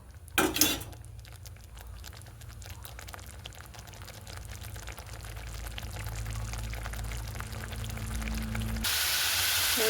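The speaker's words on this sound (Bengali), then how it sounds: "কড়ার মধ্যে দিয়ে দিলাম, এবার ভালো করে কষাবো, তেল ছাড়া পর্যন্ত ভালো করে কষাবো।" Pointed gourd sautéing in goat fat in a wok, a steady low sizzle with scraping and clinks of stirring, building gradually louder, then a sudden burst of hissing at the end.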